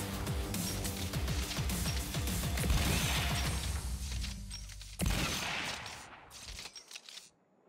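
Heavy gunfire in a VR shooter game, including a sniper rifle, comes as dense, loud rapid bursts, then a sharp report around the middle before fading out near the end.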